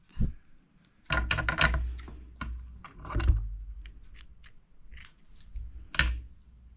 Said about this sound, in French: Je coupe ma laine.